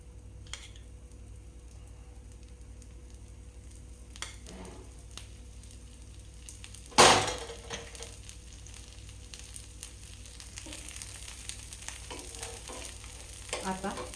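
Sprouted moong and gram dosa frying on a pan with oil drizzled around its edge: a steady, soft sizzle swells into a sudden loud hiss, then crackles and spits continue up close.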